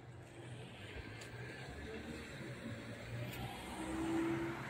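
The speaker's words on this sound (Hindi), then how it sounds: "ये देखिए सब लोग गाड़ियों में जा रहे होते हैं इस टाइम पे।" Cars drive past a park along a street where most people travel by vehicle, a continuous low road rumble of passing traffic, steady and moderately close, with no talk.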